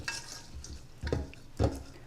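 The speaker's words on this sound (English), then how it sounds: "We'll just give this a quick stir." A spoon stirs washed rice, water, cinnamon and cardamom pods in a rice cooker pot, with a few close, wet scraping swishes, two of them louder near the end.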